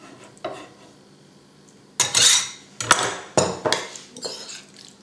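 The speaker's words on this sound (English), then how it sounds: "Now we mix it with the burrata." A spoon clatters and scrapes against a bowl while tomato filling is mixed with burrata, in a few loud, irregular bursts of clinking and rubbing after a quiet start.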